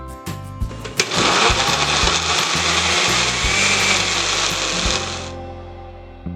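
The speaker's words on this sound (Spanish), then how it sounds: "Licúa todos los ingredientes para la salsa con excepción de la mantequilla." Blender whirring as it purées mango habanero sauce ingredients, a few sharp clicks and pulses, then a loud steady grinding roar for about four seconds that stops abruptly, close up with no talking.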